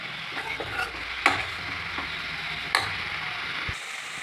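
Ivy gourd stir-fry with grated coconut being stirred in a pan in a Kerala-style kitchen: a few soft scraping stirs with two sharper clacks of the spoon against the pan over a light, steady sizzle.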